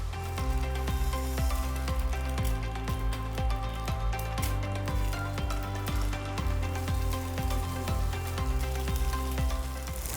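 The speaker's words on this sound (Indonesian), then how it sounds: "Kita tumis dulu telurnya." Eggs sizzle and fry steadily in a hot pan while being stir-fried, a constant close crackle running beneath a loud rhythmic musical beat with no talking.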